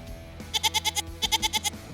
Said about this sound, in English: every time the GOAT noise was used when Markstrom made a save